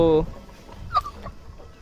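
An Aseel fighting rooster, a red-plumaged cock, lets out a short loud harmonic call at the start, followed by a single faint cluck about a second later, over a quiet background.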